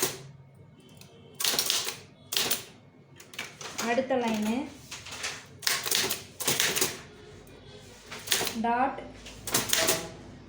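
Keys clack on a typewriter-like keyboard in bursts of rapid strikes between pauses, loud and close, while someone speaks over the typing.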